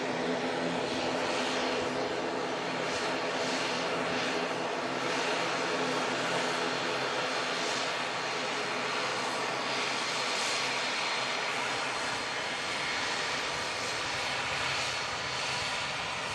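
An ATR turboprop airliner's engines give a steady, broad droning roar at moderate distance, with no voices.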